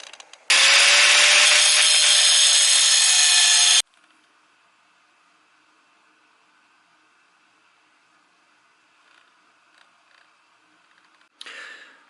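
A 4.5 inch angle grinder with a cutoff wheel cuts outside a marked line for a window insert in an older home, a loud, high whining grind for about three seconds, then a faint hum before a brief rasp at the end.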